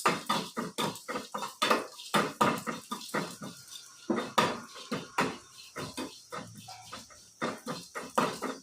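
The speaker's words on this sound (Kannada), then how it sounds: "ಮಸಾಲೆನ ಹುರ್ಕೊಂತ ಇದ್ದೀನಿ ನಾನು" A spatula scrapes and clinks against a pan while spice masala is dry-roasted for a carrot and beans sambar, giving irregular close metallic scrapes and taps in quick bursts.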